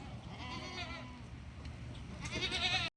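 Goats bleating at evening feeding time on a small farm, several wavering calls near and far over a low background, with a louder bleat near the end.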